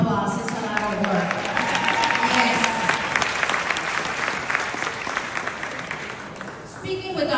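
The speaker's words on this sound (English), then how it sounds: "Yes, that deserves a round of applause" A gala audience breaks into sustained, loud applause that fills the room as a steady wash of clapping with a little crowd noise, easing slightly before the end.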